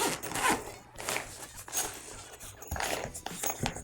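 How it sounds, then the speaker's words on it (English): A front flap zipper on a Tenba DNA 15 camera backpack is drawn open in several close, scratchy pulls, with short pauses between strokes and no talking. "this front flap unzips and you can see there's an awesome accessory compartment here"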